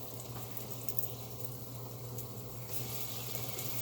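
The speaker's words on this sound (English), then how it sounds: "Basically what we're doing, we're searing it" Pork tenderloin sears in a hot pan, giving a steady, close sizzling hiss with a constant low hum underneath and no voices.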